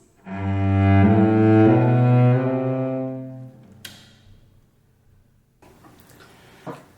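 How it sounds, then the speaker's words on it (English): A cello plays a smooth, connected run of slurred notes, rich and sustained, ending after about three seconds with a quiet bow noise and faint rustling. "Sometimes we use a technique called slurring to connect more notes into each bow stroke"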